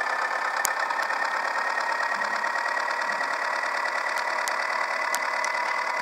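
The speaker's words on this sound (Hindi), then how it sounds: "चलते हैं लेकर अपने न्यूलैंड ट्रैक्टर को।" A New Holland tractor engine in the Farming Simulator game drones steadily and loudly, with a constant rough hum and a few faint clicks on top.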